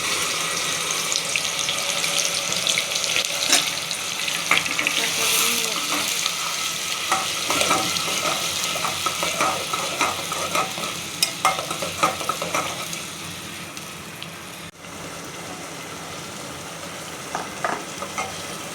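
Onion paste frying in oil for chicken biryani, a steady loud sizzle close by, broken by scattered clinks and scraping stirs, easing slightly near the end.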